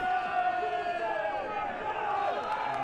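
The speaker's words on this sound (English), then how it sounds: "this crowd going wild." Football crowd at a chilly night match between Melbourne Knights and Lions FC in the Australia Cup, a steady roaring mass of cheering voices that stays loud throughout.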